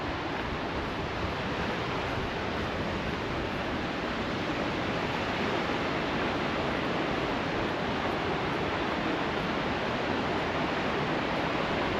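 A waterfall on the Bunsen Peak loop trail in Yellowstone near Mammoth Springs roars as a constant, dense rush of water, loud and unbroken, with no voices.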